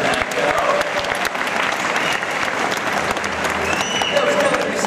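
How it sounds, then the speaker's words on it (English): Spectators at an aquarium dolphin show applaud loudly and steadily, crisp clapping from a crowd filling nearly five seconds, with some voices and cheers mixed underneath. "A round of applause for Echo."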